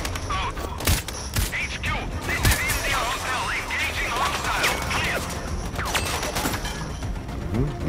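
Gunfire in the sniper video game Sniper Ghost Warrior Contracts 2, several sharp shots and bursts scattered over mechanical clatter, with chirpy game sounds and a player talking in between.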